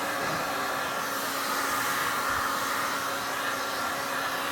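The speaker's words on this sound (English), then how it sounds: "So I'll play the heat gun on here for a while." A heat gun blows steadily on the distributor of a 1965 Chrysler 300 L, a continuous close whooshing roar of hot air with no pauses.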